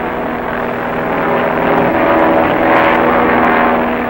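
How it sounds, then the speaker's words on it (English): A propeller airplane flies low over open horse country, a loud continuous droning engine roar that swells slightly as it passes, with no voices over it. "These horses better get used to airplane sounds."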